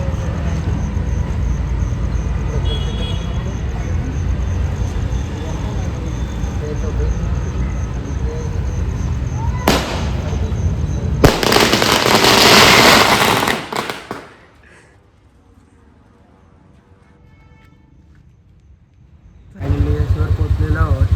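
Firecrackers at an outdoor wedding burst in loud, crackling blasts after a long stretch of steady noise from the crowd and the street. A sudden quiet gap follows before the noise comes back.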